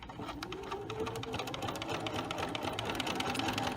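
Sewing machine stitching a buttonhole, a steady rapid mechanical whir with fast needle ticks running continuously at close range, no talk.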